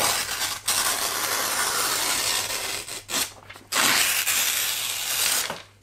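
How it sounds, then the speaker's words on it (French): A sheet of paper being torn gives loud, close, raspy ripping strokes in several long bursts separated by brief pauses, with no voices. "je vais enregistrer le bruit que fait une feuille lorsque je la déchire"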